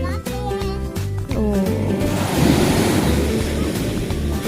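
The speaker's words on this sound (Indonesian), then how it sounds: "dan ombak yang bergulung-gulung" Ocean surf rolling onto a beach in the morning at Aceh Singkil, a steady broad wash of waves under a loud music track with melodic tones throughout.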